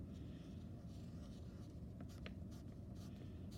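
The back end of a paintbrush scraping lines into wet tempera paint, faint scratchy strokes over a constant low hiss, quiet and close.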